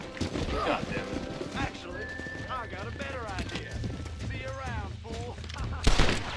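A horse in the Western video game Red Dead Redemption gallops off with quick clip-clopping hooves and a whinny, mixed with gunshots and game voices speaking over it.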